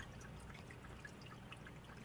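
A gentle stream of water flows into a fish fry rearing container, a faint, soft, continuous trickle heard at low level without any talk.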